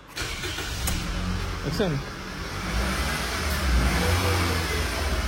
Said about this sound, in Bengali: মিষ্টি ইঞ্জিন সাউন্ড।